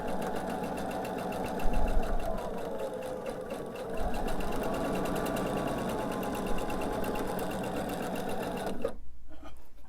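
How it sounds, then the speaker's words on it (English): A sewing machine stitches a scant quarter-inch seam on quilt blocks, its needle chattering in a steady close mechanical run for most of the time before stopping abruptly near the end, with no talking. "I'm just going to sew my scant 1/4 inch seam."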